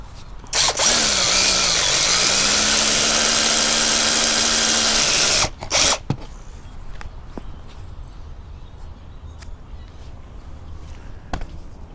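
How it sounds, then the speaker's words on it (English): A power drill bores a hole through a cracked dashboard pad from a Chevy, a loud continuous whine lasting about five seconds, followed by quieter handling clicks and knocks. "Drill this side hole out."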